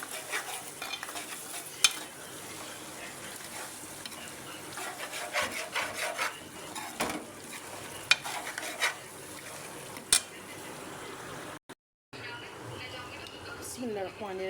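Meat curry (salan) being stirred in a pot, a steady scraping and sizzling texture with occasional sharp knocks of the spoon against the pot.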